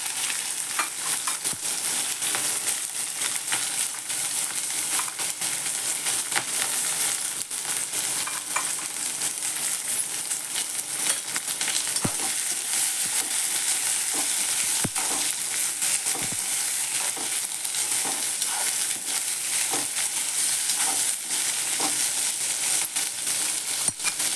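Ivy gourd (tondli) sautéing in a pan gives a steady, even sizzle of frying, with occasional faint clicks of stirring and no voices.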